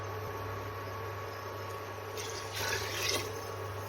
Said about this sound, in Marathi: तर इथे आपण अजून थोडस पाणी टाकून घेणार आहोत